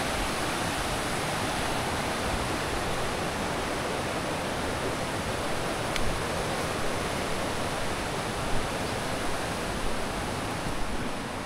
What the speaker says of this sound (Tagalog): ito yung sapa nila